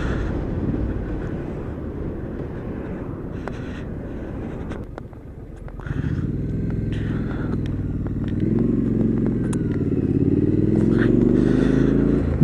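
A 2017 Triumph Street Scrambler engine drones steadily at under 3,000 rpm in top gear at 50 mph, with wind rushing past the microphone and the engine note rising gradually toward the end.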